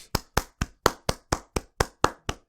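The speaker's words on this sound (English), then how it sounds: "I think that in itself is worth a round of applause." One person claps hands in an even rhythm, about ten sharp claps close up, alone with silence between each.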